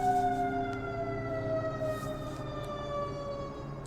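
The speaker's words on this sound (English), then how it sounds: "Oh, I hear a siren." An emergency vehicle siren sounds outside, a wailing tone that slowly falls in pitch, heard from a distance and fairly steady throughout, with faint room noise behind it.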